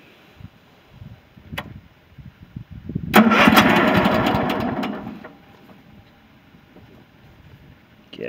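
A John Deere Sabre lawn tractor engine cranks, catches with a loud rough roar for about two seconds, then winds down, heard up close after quiet clicks and shuffling.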